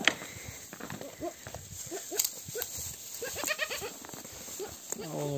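Goats on a small farm during breeding season bleat again and again in short, wavering calls, fairly close, over a steady background hum and occasional rustling.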